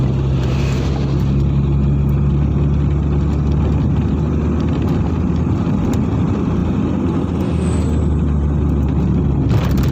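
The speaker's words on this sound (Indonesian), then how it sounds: "Dari sisi depan kendaraan-kendaraan besar ya, truk-truk mengarah Balikpapan." Large trucks roll along a winding downhill road toward Balikpapan, a continuous loud low engine rumble and road noise with no gaps, heard from close range.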